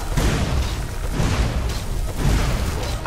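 A big spell explosion in a video game booms loudly, with dense rumbling low end and bursts of crackle sustained through the whole stretch.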